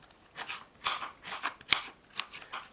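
A knife cuts fresh, tree-ripened pear into same-size pieces for a fruit salad, giving a string of soft, crisp slicing crunches in an irregular rhythm, close and fairly quiet, with no talking.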